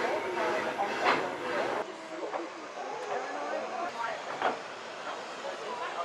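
An old steam train on Australia's oldest line, with a steady hiss and rumbling rolling noise and brief louder bursts of steam, heard close by and continuing throughout.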